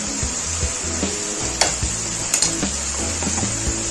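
Ground coriander and garam masala roasting in a pan for chicken white korma, a steady sizzle with repeated spoon scrapes and sharp clinks against the pan, close and continuous without speech.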